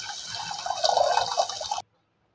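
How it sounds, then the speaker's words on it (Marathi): Water pours steadily into a pan for a chakli dough for nearly two seconds with a bright splashing rush, then stops abruptly into silence. "आता आपण याच्यामध्ये पाणी सोडून देऊया."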